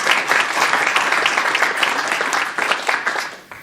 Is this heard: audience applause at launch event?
yes